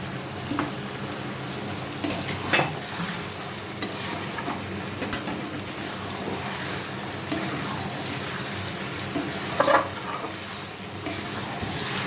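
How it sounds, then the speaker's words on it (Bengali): Round-cut potatoes frying in a pot of Bengali-style mutton curry, a steady close sizzle with occasional stirring scrapes and clinks running throughout. "এর মধ্যে আলুগুলো দিয়ে দেবো গোল করে কাটা।"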